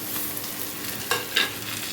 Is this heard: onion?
yes